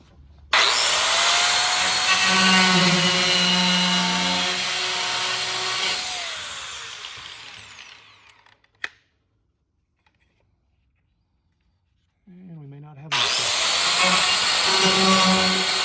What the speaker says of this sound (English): we're going to increase the depth on the cutoff wheel and finish up the job